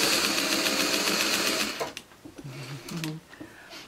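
A sewing machine runs fast and loud while stitching a quilted Christmas table runner, then stops, leaving a few short whirs and clicks as a person talks briefly.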